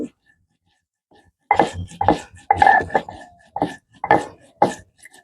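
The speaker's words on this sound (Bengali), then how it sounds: "আর জিরেটা বেটে নেব লঙ্কা এর মধ্যে" Cumin and chili ground on a grinding stone, a series of heavy rhythmic scraping strokes with thuds, close and fairly loud, about eight bursts after a brief quiet start.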